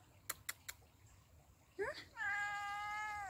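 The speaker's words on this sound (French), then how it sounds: "Est-ce qu'on voit mon petit chat? Il est là, mon petit chat." A small cat meows beside a cold river, with a few faint clicks and then a short rising mew followed by a longer, clear drawn-out meow, close but fairly quiet.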